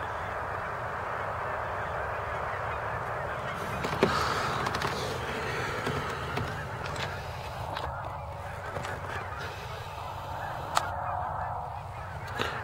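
Huge skein of geese flying outside Wellington, Colorado, a dense chorus of overlapping honks from many birds at middle distance, continuous and layered, with a few sharper nearby calls and faint wind in an open field.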